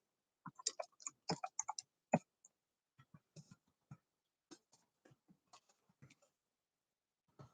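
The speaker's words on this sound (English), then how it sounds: "Let me just type something in here, Nikki." Keys on a keyboard are typed in quick bursts of sharp clicks, dense at first and then sparser, with scattered taps and pauses in a quiet room.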